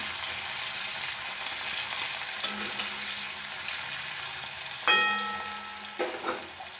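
One medium chopped onion sizzling in a pan, a constant bright hiss broken by a few sharp clinks and scrapes of a utensil.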